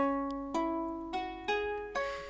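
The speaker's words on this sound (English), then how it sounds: "In this tutorial I chose to use the moon guitar, which sounds like this." A sampled moon guitar from the Spitfire Labs plugin plays four separate plucked notes with a slow, even rhythm, each ringing bright and decaying before the next, close and alone.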